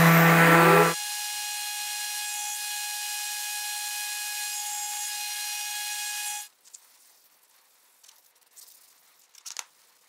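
A power sander sanding wood hums with a steady high whine for several seconds after a rougher start, then cuts off, leaving near silence with faint knocks.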